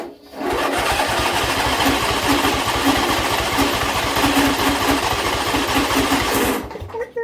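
John Deere tractor engine idling after a carburetor replacement, with the choke off and the throttle fully down, a rapid even chugging putter, loud and close, running steadily before cutting off near the end.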